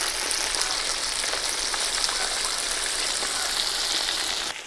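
Chicken wings seasoned with salt and mixed pepper fry in a pan, giving a steady, loud, dense sizzle and crackle that runs unbroken for the whole stretch with no talk.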